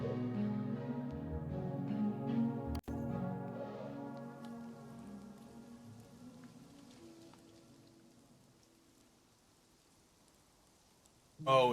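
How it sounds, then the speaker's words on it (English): Steady rain patters throughout under a sustained musical tone in the video game Wanderstop, fading gradually before a short bright burst at the very end. "Oh, it's raining in the clearing."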